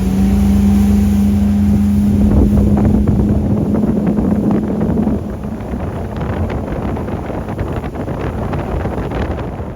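A Sea Ray Sundancer 265 boat's 6.2 litre V8 runs with a steady low engine drone, then eases into a rough rumble mixed with wind buffeting on the microphone.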